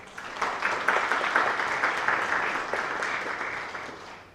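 An audience at a high school National Honor Society induction ceremony applauds school board members, steady moderately distant clapping that swells and slowly tapers over several seconds.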